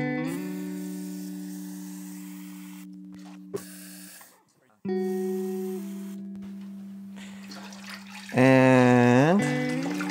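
Tap water runs into a container while D76 film developer is being mixed at home. The steady, hissing stream shifts pitch as the vessel fills, with a brief break in the middle and a rising, louder gush near the end.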